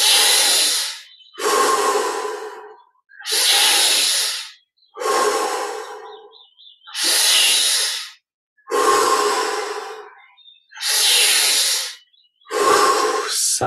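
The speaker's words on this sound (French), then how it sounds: "Dix respirations encore, avec un peu plus d'amplitude dans l'inspire et dans l'expire." Slow, deep breathing during a guided meditation, eight long airy inhales and exhales in a steady rhythm, close to the microphone and separated by brief quiet pauses.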